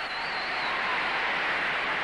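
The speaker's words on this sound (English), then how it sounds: "the audience really going wild about that" A large arena crowd at a 1985 World Gymnastics Championships women's team event applauds and cheers in a dense, steady roar with a whistle near the start, continuous and loud throughout.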